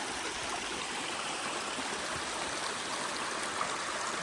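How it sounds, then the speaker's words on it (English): Water runs steadily through the Kedron Flume on a trail, a continuous, even rushing flow heard alone and close by. "This is the Kedron Flume, still running."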